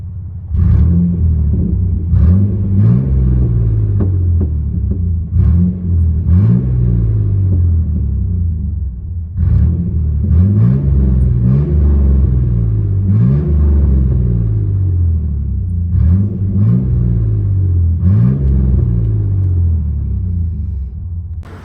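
Straight-piped 4.3L V6 exhaust on a 1999 GMC Sonoma, heard from inside the cab: a loud, deep rumble with repeated revs rising and falling in a steady rhythm, no talking.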